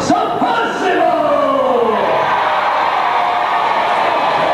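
Theme park crowd at a knights' joust show cheering and roaring for a knight, a loud, sustained burst of voices that swells then holds steady, with a presenter's voice at the start.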